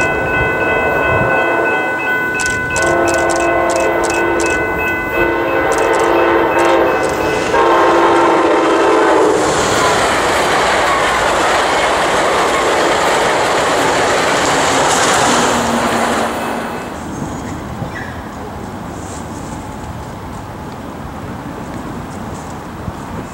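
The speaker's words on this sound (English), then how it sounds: "Right behind him was Amtrak Cascades 505, daily service from Seattle, Washington to Eugene, Oregon." Amtrak Cascades 505, a daily Seattle-to-Eugene passenger train, rumbles past loud and close, sounding a long multi-tone horn blast early on, then its wheels roar steadily before fading as it moves away.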